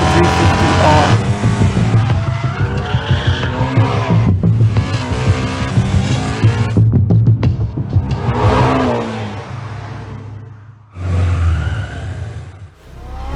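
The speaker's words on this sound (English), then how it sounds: "The 2017 Mustang Jensen 350R." A 2017 Ford Mustang engine roars loud and close, revving hard through rising and falling sweeps with brief gaps between pulls.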